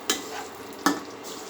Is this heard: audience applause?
no